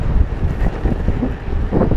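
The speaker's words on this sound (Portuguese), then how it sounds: "Muito vento." Strong wind buffeting the microphone while cycling downhill out of a city, a loud, constant rumbling roar with gusty swells and no talking.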